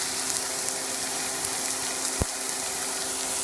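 A boneless ribeye steak sears in a hot pan with a steady, close crackling sizzle throughout. One brief knock sounds partway through.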